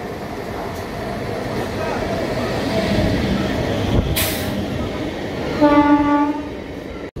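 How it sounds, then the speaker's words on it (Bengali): MEMU passenger train pulling into platform 2 on the Purulia line, a steady loud rumble of wheels and carriages with a brief hiss of air brakes, close and continuous. "এখন ট্রেনটি আসছে বন্ধুরা 2 নম্বর প্ল্যাটফর্মে, এই মেমুটা যাবে।"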